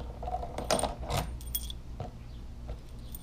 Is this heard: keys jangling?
yes